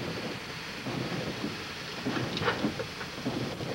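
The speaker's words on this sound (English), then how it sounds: "I think the wind came up all of a sudden" Wind gusting up suddenly outdoors at La Mosca Peak, a broad, rushing roar that swells and buffets the microphone for several seconds, with no voices.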